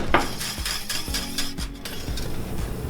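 Milk, egg yolks and vanilla are stirred in a pot, with a utensil scraping and clinking against the metal in quick, steady strokes, close up and without voices.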